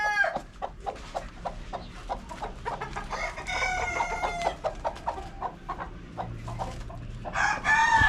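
A hen clucks repeatedly in a quick, steady rhythm, close and clear, with a rooster crowing loudly over it partway through and again near the end.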